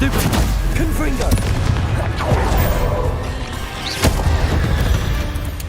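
Confringo fire-blast spells boom in Hogwarts Legacy on PC, giving dense, loud crashing bursts with a sharper hit near the end, over game sounds and a voice.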